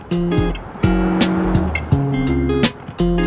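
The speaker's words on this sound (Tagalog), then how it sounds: "Pababa na yung kotse." A car rolls downhill past cyclists on a steep climbing road, its engine and tire noise loud and close in several surging passes with no talking.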